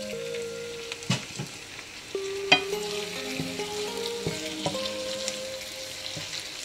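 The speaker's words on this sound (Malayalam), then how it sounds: "ടൊമാറ്റോയും നന്നായിട്ടൊന്ന് സോഫ്റ്റ് ആവുന്നത് വരെ വഴറ്റിക്കൊടുക്കാം" Shallots and chopped tomato sauté in a pan for a prawn shallot roast, a close, continuous sizzle broken by sharp knocks and clinks of a spoon stirring against the pan.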